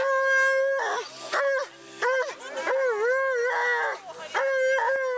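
Several dogs of various breeds howl and yip together at an outdoor winter dog event with sled rides, long rising and falling wails overlapping loudly and close for the whole stretch.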